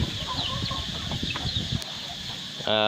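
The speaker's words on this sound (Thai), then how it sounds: "นี่ครับไก่รอกินครับ" Free-range farm chickens cluck busily while waiting for feed mixed with shrimp, crab and fish, a close cluster of short clucks over steady insect-like background hiss, with someone talking briefly.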